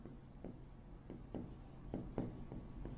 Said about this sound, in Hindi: यहां पर लिख देती हूं